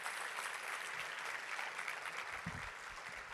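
Church congregation applauding during a Portuguese-language evangelical sermon, a steady, dense wash of many hands clapping at moderate distance, with no voices over it.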